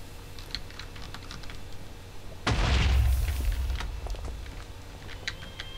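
A single loud, deep explosion blows a wall open in Minecraft, with a rumbling boom that fades slowly. Steady keyboard typing clicks run before and after it.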